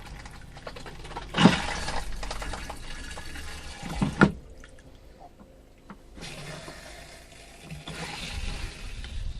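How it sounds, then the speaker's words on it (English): Antifreeze draining from a travel trailer's water lines during winterizing, a gushing splash that comes in bursts, cuts out briefly, then resumes as steady close pouring. "So antifreeze coming out of there."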